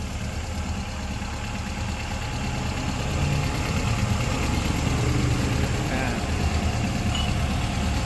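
A Toyota 4A-F carburetor engine settles into a steady idle just after starting, a continuous low rumble that grows slightly louder partway through, with background voices around it.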